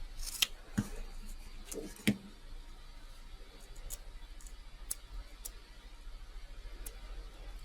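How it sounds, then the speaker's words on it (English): Scissors cut a piece of material in half with a few sharp, close snips early on. A quiet stretch with faint scattered ticks follows, and there is no talking. "So I guess I should cut it in half,"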